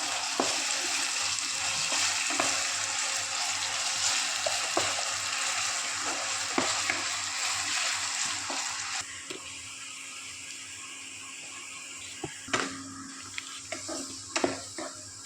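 Potatoes for crispy fried potato sizzle steadily in a pan, with scraping and tapping of continuous stirring that grows sharper toward the end; nobody speaks.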